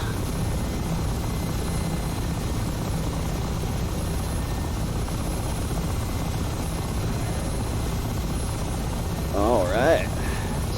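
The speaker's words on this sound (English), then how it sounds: "So a couple of different ways you can land with the Mi-8" Mi-8 helicopter in the flight simulator game DCS, a steady loud rotor and turbine drone throughout, with a brief voice murmur near the end.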